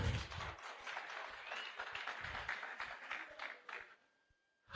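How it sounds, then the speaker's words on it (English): Faint audience applause at a public outreach gathering on responsible gambling, a soft wash of many hands clapping that tapers away into near silence at the end. "Give yourselves a round of applause."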